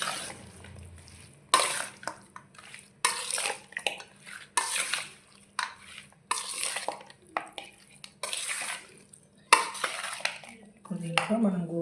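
A spoon stirs chicken with gongura leaves in a pan, making repeated rhythmic scraping and squelching strokes at close range, with a voice talking quietly in between.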